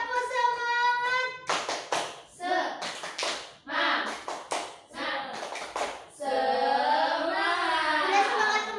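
Children in a classroom do a rhythmic spirit clap led by their teacher, with bursts of patterned handclaps and taps alternating with group chanting and voices, tight clusters of claps separated by short pauses.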